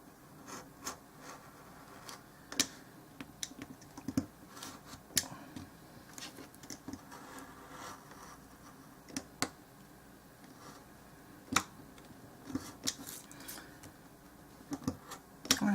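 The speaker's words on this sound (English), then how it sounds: "So we are going to attempt to cut this center out without the ruler again." A blade cuts into a small dollhouse miniature microwave part, giving a string of faint, sharp ticks and scrapes at an irregular rhythm, close by in a quiet room.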